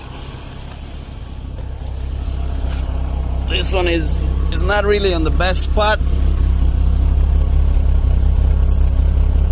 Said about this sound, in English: So we got an exhaust leak.